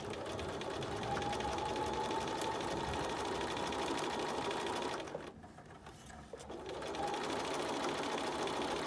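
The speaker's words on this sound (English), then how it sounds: "Again, we're just sewing this closed." A sewing machine stitches a fabric face mask closed, its steady close motor whir running continuously and alone, dipping briefly near the middle before resuming.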